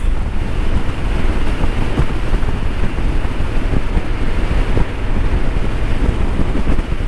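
Steady, loud wind rushes and buffets a microphone near a bridge while riding a 2018 Honda PCX scooter, a continuous roar with no pauses.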